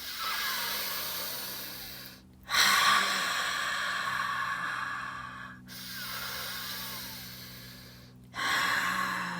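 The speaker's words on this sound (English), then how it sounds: "You can take some deep breaths." Slow, deep breaths drawn in and let out close by: three long, heavy breaths, each followed by a short silent pause.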